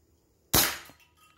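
A single sharp crack from a PCP PR 900W G2 air rifle fired at targets, close and loud with a short fading tail in an otherwise quiet outdoor setting.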